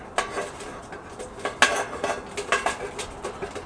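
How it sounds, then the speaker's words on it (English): A metal poker stirs a pot of New Orleans style red beans over a Solo Stove campfire, making quick irregular clanks and scrapes against the pot, close and brief, with no talking. "Use my poker. Give it a stir."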